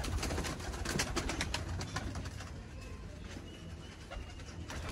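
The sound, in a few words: pigeons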